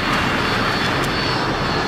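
Airplane engine inside an empty plane in the survival game The Forest, a steady, loud, broadband roar holding evenly throughout with no breaks and no talking.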